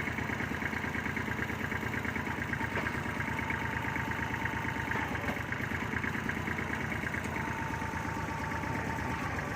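A Kubota tractor engine idles steadily nearby, a continuous low rumbling chug with even vibration and no talking.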